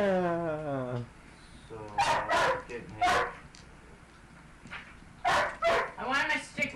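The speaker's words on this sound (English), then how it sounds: "Dog, you're not hurt or anything like that. Stop your whining." A dog whines in a thin, wavering tone for about a second, and then people talk over a quiet background.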